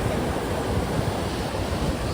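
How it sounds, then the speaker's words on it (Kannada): Sea waves at Kaup beach in Udupi give a continuous, loud broadband roar with no breaks, heard alone without voices. "ಸಮುದ್ರದ ಬೋರ್ಗರೆವ ಸದ್ದು ಕೇಳ್ಕೊಂಡು"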